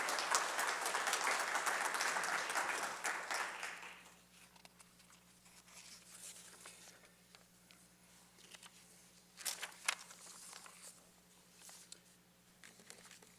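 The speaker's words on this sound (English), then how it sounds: "You can applaud for them." Audience applause at a Bellevue city mayoral candidate forum, a fairly loud burst of clapping for about four seconds that quickly thins out into scattered faint claps and room noise.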